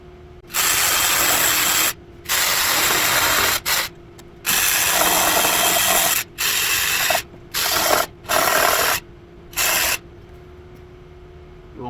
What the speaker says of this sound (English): A little sanding, and we'll get her done.